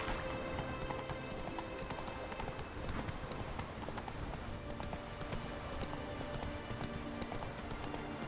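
Roach the horse gallops in The Witcher 3, a steady, rhythmic drumming of hooves played at a moderate level over sustained tonal game music.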